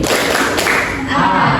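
A third-grade class doing a concentration clap, with loud, close clapping in a quick rhythmic pattern alongside children's voices.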